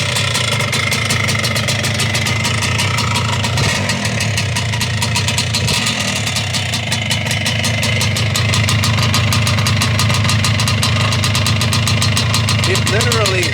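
A 1973 Can-Am MX-175 motorcycle engine runs steadily after a kick start, a continuous close, loud two-stroke drone with a busy high rasp throughout, and a voice is briefly heard over it.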